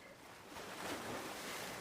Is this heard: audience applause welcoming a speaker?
no